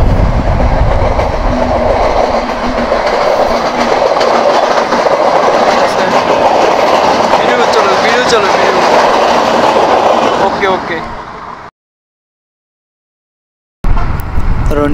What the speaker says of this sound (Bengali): অবশেষে ট্রেনের দেখা পেলাম, তার জন্য ছুটলাম ট্রেনটা দেখার জন্য।